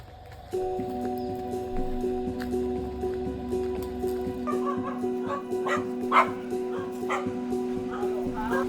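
Puppies bark and yip in short bursts, with a few whimpers, over a steady mechanical hum during a rescue in Thailand; a voice speaks briefly in the background.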